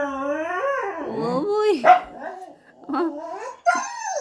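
A dog indoors gives drawn-out howling whines that break into yips and short barks, close and loud, while a person calls out briefly.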